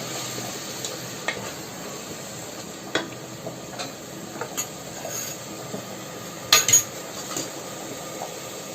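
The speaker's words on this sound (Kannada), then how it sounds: "ಪುದೀನ ಕೊತ್ತಂಬರಿ ಪೇಸ್ಟ್ ಹಸಿ ವಾಸನೆ ಹೋಗೋವರೆಗೂ ರೋಸ್ಟ್ ಮಾಡಬೇಕು" A mint and coriander paste roasts in a pan for village-style mutton sambar, making a low steady sizzle broken by sparse scrapes and metallic taps of a spoon, with one louder double clink near the end, and no voices.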